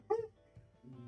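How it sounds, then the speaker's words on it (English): A single short dog bark, sharp and fairly close, followed by a faint whimpering tail and a low muffled rumble in a quiet indoor room. "Apologies for the barking."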